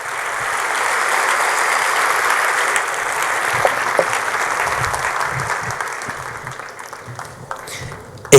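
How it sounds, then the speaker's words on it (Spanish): A church congregation claps steadily during a Sunday service, a broad sustained applause that slowly thins toward the end, with a voice faintly audible underneath. "Dele un aplauso al Señor"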